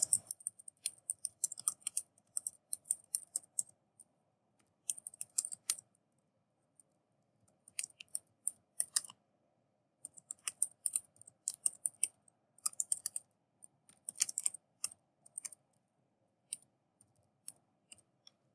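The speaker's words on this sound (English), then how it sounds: "Let me finish typing this." Rapid clicking of keys on a computer keyboard in irregular bursts with short pauses, close and fairly quiet.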